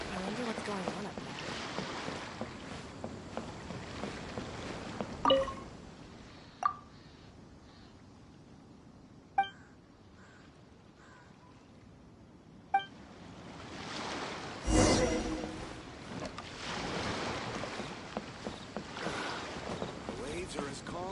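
Calm ocean waves washing in the game Genshin Impact, a steady broadband wash with soft swells, broken by a few brief chimes and clicks, with a lull in the middle before the surf swells back.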